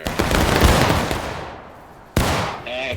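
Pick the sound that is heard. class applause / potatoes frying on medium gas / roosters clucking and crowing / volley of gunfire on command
volley of gunfire on command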